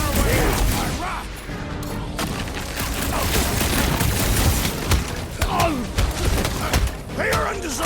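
Rapid gunfire crackles in the Guardians of the Galaxy video game, with volleys of shots and impacts mixed into a busy battle under ongoing character dialogue.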